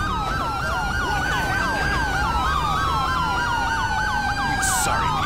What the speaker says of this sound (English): I can't stand the siren.